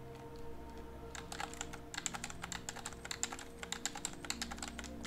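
Fast, irregular clicking of keys on a computer keyboard during play of the typing game Epistory, close and fairly quiet, with bursts of rapid keystrokes over a low steady background hum.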